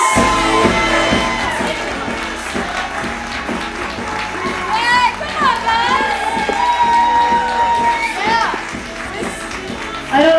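A comedy show audience cheers, whoops and applauds loudly and continuously as a woman comedian takes the stage, with shouts rising above a dense crowd roar throughout.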